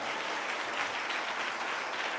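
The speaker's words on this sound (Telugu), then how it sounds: "గట్టిగా చప్పట్లు కొట్టి ప్రభుని మహిమపరుద్దాం." A church congregation applauding during Sunday worship at Hosanna Mandir in Chennai, a dense, steady burst of many hands clapping, loud and sustained throughout with no talk.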